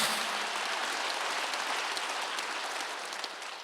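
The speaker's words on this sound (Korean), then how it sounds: "박수해" Congregation clapping together during a Wednesday worship service at a church, a dense steady wash of many hands that holds for a few seconds and tapers slightly at the end, with no voices over it.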